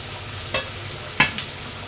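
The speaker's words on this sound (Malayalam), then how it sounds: "ഇതെല്ലാം കൂടെ നന്നായിട്ടൊന്ന് വഴറ്റിയെടുക്കാം." Green chillies, tomatoes and curry leaves sauté in a pan for a Kerala breadfruit curry, a steady close sizzle broken by a few sharp spatula scrapes and knocks.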